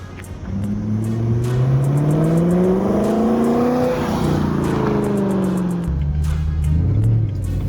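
A BMW M3 E93 Cabrio with a V8 engine accelerates hard, its engine note climbing in rising sweeps with brief dips at gear changes, loud, close and without any talking.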